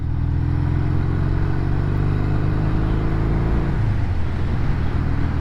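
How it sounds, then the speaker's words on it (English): A lathe spins at a steady 800 rpm to test a Triumph Trophy 500 T100C motorcycle speedometer, a constant loud mechanical whir and hum with a slight clatter; the tone drops a little near the end. "So I set lathe at 800 revs per minute"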